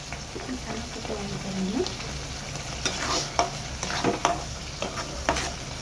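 A paste of onion, cashew and tomato roasts in a pan, giving a steady frying sizzle. Repeated scraping stirs grow busier toward the end, with a faint voice-like tone early on.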